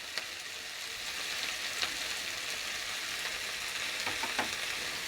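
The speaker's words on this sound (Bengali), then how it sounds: "এটাকে এখন ভালো করে একটু ভাজবো" Cauliflower seasoned with salt and turmeric fries in hot oil for a chilli cauliflower dish, a dense, even sizzle close up, broken by faint stirring scrapes.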